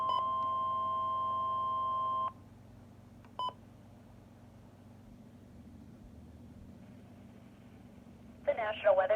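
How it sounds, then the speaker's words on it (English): A weather radio plays a National Weather Service Pueblo weekly Emergency Alert System test. A steady alert tone runs about two seconds, followed by a short beep and low background hum, then warbling data-like tones at the end. "The National Weather Service in Pueblo has just activated the emergency alert system as a test."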